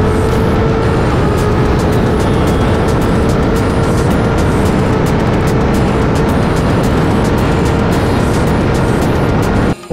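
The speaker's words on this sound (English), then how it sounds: "When your bro lets you ride his beast and you spin all the way to third gear and still deliver the gap" A vehicle engine roars loud and close for the whole stretch, a dense, continuous drone with no pauses.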